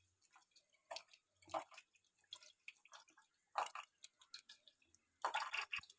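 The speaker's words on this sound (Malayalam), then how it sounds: "ഇനി നമുക്കൊരു നെല്ലിക്കയുടെ വലുപ്പത്തിൽ കുറച്ച് വാളംപുളി എടുത്തിട്ട് ഈ വെള്ളത്തിലേക്ക് ഇട്ട് കൊടുത്തിട്ട് ഒന്ന് ഞെരടിയെടുക്കാം." Tamarind squeezed by hand in a bowl of water, heard as soft, irregular wet squelches and drips close by, quiet with short pauses between bursts.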